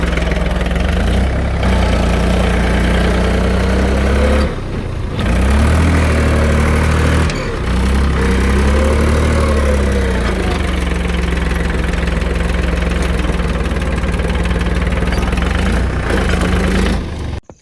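Tractor engine idling on a farm while fodder is handled, a loud close low rumble with steady throbbing that briefly dips twice, running throughout.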